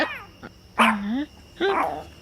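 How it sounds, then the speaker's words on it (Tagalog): A dog barks twice, loud and close, with the two barks about a second apart. A faint yip comes before them, and people in a rural Ilocano comedy scene talk around the barks. "Namabadwak ti aso."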